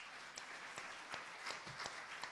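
An audience gives speaker Ronnie Chan another round of applause, a soft, fairly distant patter of clapping from a room full of people.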